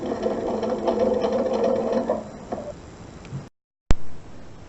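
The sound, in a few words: sewing machine stitching quilt binding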